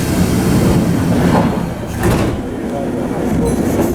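Kintetsu Yoshino Line commuter train at a small station in early May, with a loud rumbling hum and a sliding door thud as the doors close, then the train pulling away with a steady rolling roar.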